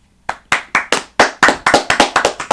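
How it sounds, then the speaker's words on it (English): Crisp handclaps in honor of the San Francisco Giants baseball team, about a dozen sharp, close claps in a fairly steady rhythm that speeds up slightly. Nothing else is heard. "Clap it up for the Giants."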